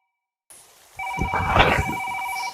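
After a brief quiet, a telephone rings with a steady electronic trill. The ringing is clear and close and sits over some low rumbling noise.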